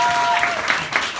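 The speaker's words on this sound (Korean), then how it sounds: "박수 한번 주세요" Brief audience applause at a Christmas a cappella concert in a bar, a short burst of clapping from a small crowd lasting just over a second.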